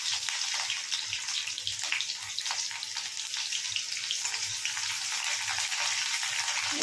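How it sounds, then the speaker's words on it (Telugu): Chopped onions fry in a pan with mustard seeds and cumin seeds, giving a continuous bright sizzle with soft crackling and a faint low hum beneath, close by and steady throughout. "ఉల్లిపాయలు అయితే వేగిపోయినాయి."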